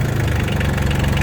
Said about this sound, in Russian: на пробу запускается, естественно, но так как аккумулятор не самый живой, к сожалению, попался, чуть дольше ему пришлось крутить